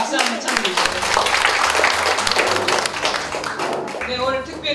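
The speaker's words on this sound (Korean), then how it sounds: "바깥분한테 좀 박수 한번 쳐드리죠" Applause rises from an audience at a women's education volunteer association general meeting, dense and continuous throughout, with low background hum and some voices mixed in.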